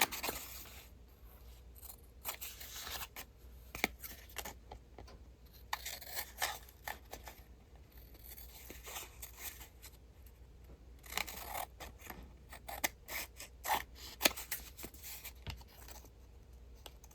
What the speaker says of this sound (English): trim the tag with my scissors